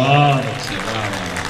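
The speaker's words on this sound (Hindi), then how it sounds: "हमारी अंतरिक्ष की संस्था इसरो के लिए जोरदार तालियां बजाएं" An audience at a live Hindi comedy poetry gathering claps loudly for ISRO, a dense, steady wash of applause swelling in right after a brief voice and holding to the end.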